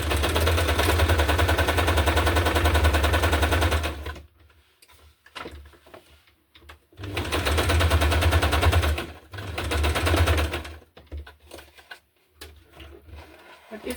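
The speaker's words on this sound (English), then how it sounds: "So I'm just sewing and not so much chatting." Sewing machine stitching a hardcover junk journal in two loud, steady runs of rapid mechanical chatter, each a few seconds long, separated by quieter pauses with small handling clicks and rustles.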